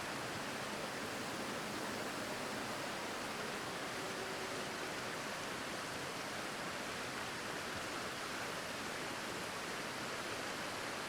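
River water flowing in the snowy survival video game The Long Dark, a steady, even rushing hiss that stays constant and fairly quiet throughout with no talking.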